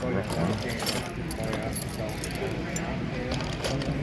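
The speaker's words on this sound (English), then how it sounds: "Old keys." Old keys jangle faintly at a flea market stall, a soft, continuous metallic clinking beneath a busy indoor background.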